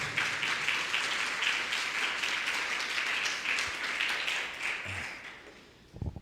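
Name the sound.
congregation applause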